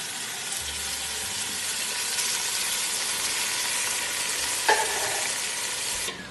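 Sizzling in a hot pan as a whole can of tomatoes goes in over cooking onions and garlic for bucatini amatriciana, a steady broadband frying hiss running throughout with a brief louder burst near the end.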